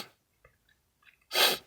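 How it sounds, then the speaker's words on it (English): A single person sneezing, one sharp burst near the close after a few faint breaths, loud and alone. "Oh gosh, I gotta sneeze."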